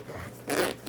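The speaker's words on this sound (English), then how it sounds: "Another white zipper." A white zipper on a Tumi bag is pulled open in one quick, close rasp, fairly quiet and with no one speaking.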